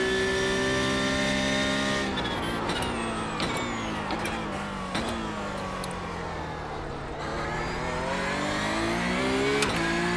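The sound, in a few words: race car engines in iRacing Porsche Cup video game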